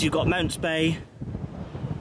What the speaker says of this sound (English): it's really windy up on this viewing platform